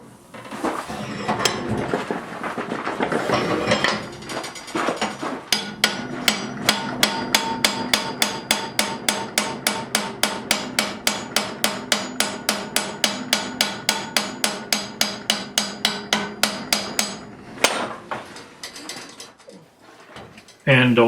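Steady rhythmic hammer blows on hot metal bars over an anvil, upsetting the bar ends during blacksmith forging, dozens of sharp ringing strikes in a regular beat, close and loud, with a brief pause near the end.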